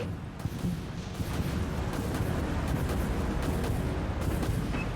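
Torpedo launch and detonation in the naval combat video game Dreadnought, a steady rumbling roar with blasts layered in, moderately loud and sustained for several seconds.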